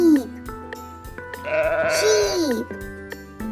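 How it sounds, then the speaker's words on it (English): A farm sheep gives one loud, quavering bleat lasting about a second, close to the listener, with a steady tonal background before and after. "sheep,"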